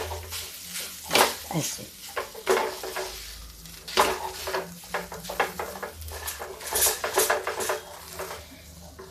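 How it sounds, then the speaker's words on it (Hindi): A spoon scrapes and clatters against a pan as chili flakes are mixed into a lentil filling for dal gujiya, giving repeated close metallic knocks and scraping with a soft sizzle beneath, while someone speaks briefly. "चिली फ्लेक्स, अब इसको हम खूब मिक्स करेंगे"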